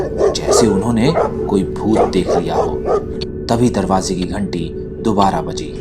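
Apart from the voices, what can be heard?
dogs barking outside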